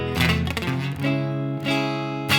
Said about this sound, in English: you get these messy ghost notes or unnatural sounds in between the chords.